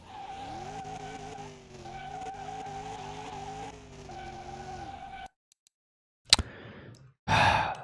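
A car in Car Mechanic Simulator 21 skids and spins out, a long wavering tire squeal over an engine drone that cuts off abruptly, followed by a few sharp bursts of noise.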